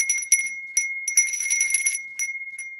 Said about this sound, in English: Do you want me to ring the bell more?